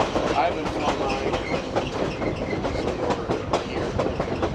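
Grand Canyon Railway train rolling along the tracks near Williams, Arizona, heard from the back car as a steady rumble with rhythmic clickety-clack of wheels over rail joints, with people talking faintly inside the car.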